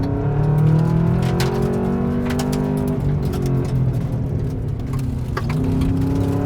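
A car accelerates through pendulum turns on a driving course, its engine note climbing and falling in loud, steady sweeps for the whole stretch, with no talking.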